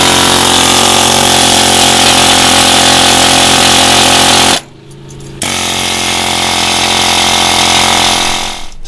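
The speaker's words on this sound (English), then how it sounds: "rig up the needle gun and see if I can just chip paint away from this cap" A pneumatic needle gun chips paint off a corroded steel rudder post cap on a steel trawler, a loud, dense rattling hammer that runs steadily, cuts out for about a second, then resumes.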